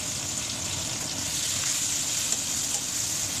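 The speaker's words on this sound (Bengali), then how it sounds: "তেজপাতা, গরম মশলা, জিরে ফোড়ন, পেঁয়াজগুলো ভেজে নেব।" Onions fry in hot oil with bay leaf, garam masala and cumin seeds, giving a steady, even sizzle that hisses on without a break.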